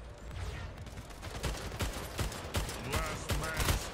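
Rapid submachine gun fire in a video game crackles as a dense run of sharp shots over several seconds, steady and fairly close amid other game noise.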